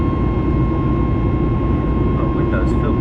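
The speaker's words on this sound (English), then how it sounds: "Not a bad sound from the LEAP engines." CFM LEAP jet engines on a Boeing 737 MAX 9 in flight give a steady, loud, broadband cabin roar with a constant tonal hum, unchanging for the whole stretch.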